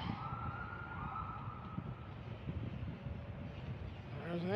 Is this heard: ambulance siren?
yes